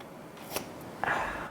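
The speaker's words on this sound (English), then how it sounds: "Now, for the important paper tearing." Paper seal being torn off a Google Pixel 8 box: a brief crisp rip followed by a longer scratchy tear, close and fairly quiet, with no voices.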